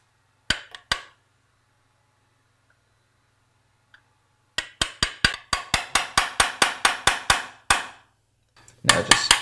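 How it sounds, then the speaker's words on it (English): Hammer strikes drive a pin out of a Tippmann SMG-68 paintball marker's magazine latch held in vice grips: two sharp blows, a pause, then a rapid run of about fifteen evenly spaced metallic taps, close and loud. "Now just hammer it out"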